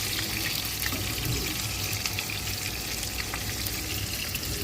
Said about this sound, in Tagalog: And the okra we fried.